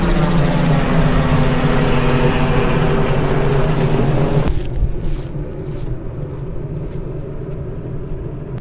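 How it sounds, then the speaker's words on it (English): A loud, steady helicopter rotor-and-engine roar drones overhead for several seconds, then drops off abruptly, leaving a quieter rumbling drone with outdoor background noise on a harbor boardwalk in Destin, Florida. "Helicopters are after us with the searchlights."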